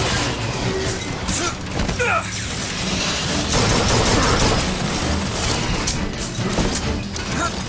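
A turret in Bioshock Infinite lays down dense, rapid, continuous gunfire with booming impacts and mechanical clatter, loud and sustained throughout, while a voice speaks briefly in the mix.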